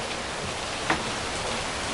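Hot rain falls outside a home, a soft steady hiss of drops with one faint brief knock partway through, no voices.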